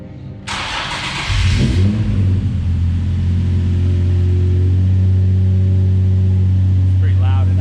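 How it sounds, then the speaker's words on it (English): A Nissan 370Z with an aftermarket exhaust cranks and fires up with a loud burst, then settles into a steady, deep, rumbling idle that carries on close by. "I think we're gonna start the car for fun."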